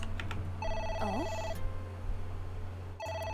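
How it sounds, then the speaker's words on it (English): A telephone rings in the video game AI: The Somnium Files, repeated electronic ring bursts separated by a pause, with a short rising chirp-like game effect and a steady low hum underneath. "It's the phone. Maybe try picking it up?"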